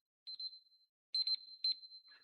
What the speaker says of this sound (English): If this keeps beeping, I'm tossing it into the crowd